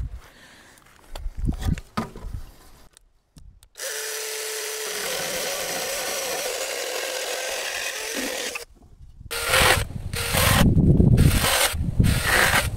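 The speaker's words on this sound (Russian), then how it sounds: "И пилю на небольшие кусочки." Hand saw cutting wood into small pieces while seated beside two level stumps at a country cottage, with a long steady rasping stroke, then louder, choppier sawing that follows after a short pause.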